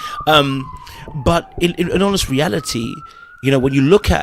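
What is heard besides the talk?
police car sirens in New York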